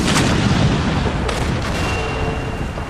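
Musket volleys and cannon fire boom in a historical strategy game, a dense, continuous barrage of overlapping shots with sharper cracks near the middle, loud throughout.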